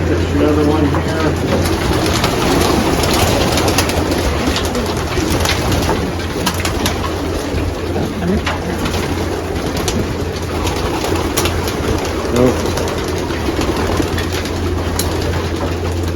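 Pigeons in a racing loft coo in low, throaty murmurs under a constant loud background din, with someone talking now and then nearby.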